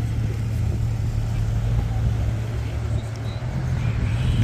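A Porsche GT3 and a Lotus pull away hard at a Cars&Coffee meet in Luxembourg, a loud, steady low engine roar with rumbling tone throughout, close by.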